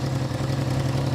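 A 1979 Benelli 750 Sei six-cylinder motorcycle engine runs in a brief, steady burst, a smooth low hum with fine rapid pulsing, close and unaccompanied by speech.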